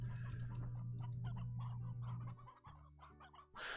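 Chickens clucking in the Slime Rancher video game, a steady string of short clucks close by with a low droning hum underneath that drops out partway through.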